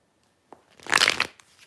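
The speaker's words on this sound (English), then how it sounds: "Can't always get these shuffles perfect." Playing cards riffle-shuffled close up during a live stream, a brief soft tap followed by a dense, crisp burst of fluttering card riffles lasting under a second, then a small settling tap as the deck comes together.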